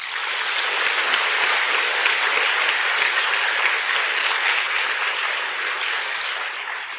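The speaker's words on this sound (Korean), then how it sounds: "자, 우리 이경 박사를 생각하면서 박수 한번." Congregation applauding at a Buddhist dharma talk in a Korean temple, a dense, sustained wash of clapping from a large crowd, steady and loud from start to finish.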